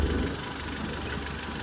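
A carburetted analog engine settles into a steady idle after its idle screw is backed out, giving a low, even rumble with slight vibration throughout, no talking.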